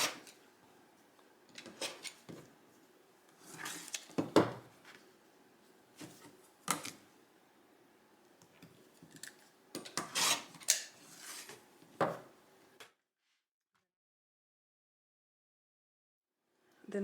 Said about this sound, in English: we will just repeat this process of trimming off the edges.